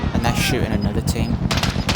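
Rapid automatic gunfire crackles in Call of Duty: Warzone, loud bursts of shots filling both seconds with sharp overlapping reports, with no talk over them.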